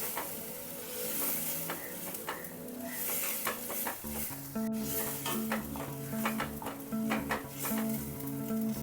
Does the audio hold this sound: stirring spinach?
yes